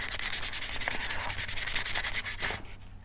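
Close, steady back-and-forth sanding strokes scuff the surface of a scale-model part in quick rhythmic rubs, ending with a brief quieter moment.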